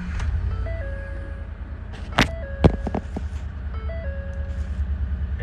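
A car engine cranks briefly, catches, and settles into a low steady idle, while repeated electronic dashboard chimes ring on top.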